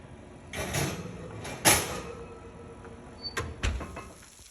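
An oven door swings open and a dish is slid inside, heard up close as a broad whoosh and a sharp metallic clunk, then a few lighter knocks and rattles, with no talk.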